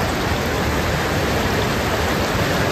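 Steady rain and rainwater rush down the slopes in streams toward the Doodh Ganga river in Yousmarg valley, Kashmir, making a dense, even roar that fills the whole moment with no break and no voices.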